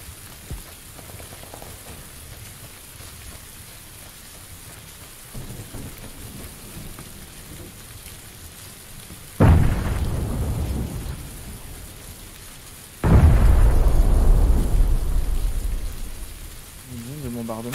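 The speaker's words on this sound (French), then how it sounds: "avec la pluie, t'entends rien en plus" Rain falls steadily in PUBG while thunder breaks twice, each a sudden loud crack that rolls into a long rumble over the constant hiss of rain.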